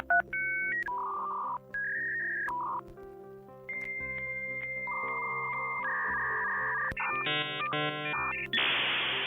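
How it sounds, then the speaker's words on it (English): A dial-up modem connecting over a phone line: a run of dialing tones and steady pitched handshake tones, then warbling, clacking bursts and a final loud hiss of static, all close and loud with no talking. "a dial-up modem, a little box that would screech and clack at your phone line before finally connecting you"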